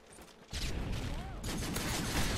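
Rapid gunfire from the video game Modern Warfare 3, a dense burst of shots that thickens partway through and keeps going steadily to the end.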